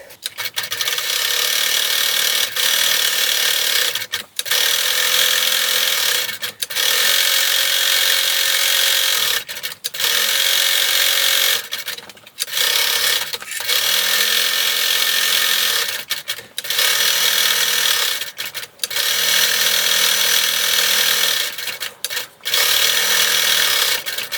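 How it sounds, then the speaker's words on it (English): A sewing machine stitches along the edges of a fabric mug rug in long continuous whirring runs, each broken by short pauses, loud and close with no talking. "I'm also going to add another row of stitching about 1/2 inch in, just for looks"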